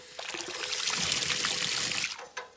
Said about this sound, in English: So this is the new tank drain down.